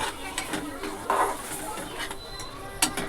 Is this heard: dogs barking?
no